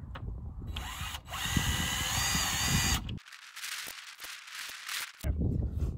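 A power drill drives 1 5/8 inch torsion screws into the wooden frame of a bulk pig feeder, with a sustained loud whir for about three seconds, then quieter intermittent buzzing and clicks.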